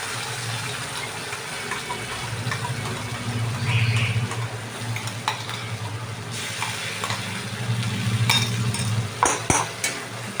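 A paste of onion, garlic, ginger and green chilli is stirred in a hot pan for a pomfret fish curry, with steady scraping and soft sizzling that rise and fall as the spoon moves and a few sharper clinks near the end.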